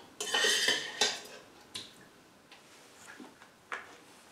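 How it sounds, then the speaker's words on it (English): An Instant Pot EVO inner pot is lifted out and its contents are spooned out: a sharp metallic clank and scrape come first, then several lighter clinks of a spoon on the metal pot, close and with no talking. "I can just lift this pot out and easily spoon the contents out."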